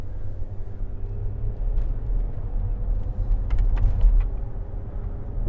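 Range Rover Sport 3.0 SDV6 HSE driving along a road, a steady low engine and road rumble with tyre noise from inside the cabin and a few faint clicks near the end.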